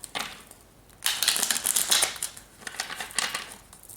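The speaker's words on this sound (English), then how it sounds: "Let's tap into some tarot now. All right, so Spirit, please, for group number 1 here, we are going to shuffle." Tarot cards shuffled by hand in a reading, giving close, dry riffling and papery slaps in several rustling bursts with short pauses between, and no talk.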